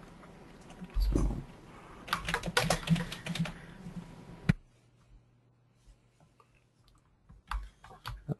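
Computer keyboard typing during a BloodHound cybersecurity workshop, arriving as scattered bursts of close key clicks with pauses between them, joined by some background talk and handling noise.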